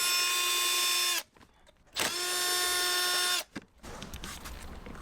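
A power tool spins out 10mm bolts from the dashboard of a 2015-2016 Lexus RC, in two loud, steady whining bursts of about a second each, separated by short pauses.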